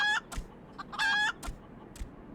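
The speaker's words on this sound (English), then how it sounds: "I still can't believe there's a green chicken." A green chicken in the video game Final Fantasy XIV clucks in short, close bursts, two louder squawking calls separated by softer clucks.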